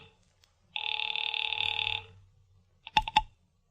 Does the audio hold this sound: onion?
no